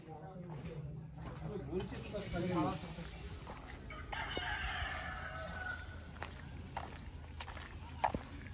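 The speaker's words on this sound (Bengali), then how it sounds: "আসতেই মোরগটা ডাক দিয়ে দিল" A rooster crows at a distance over outdoor ambience, with footsteps and people talking nearby throughout.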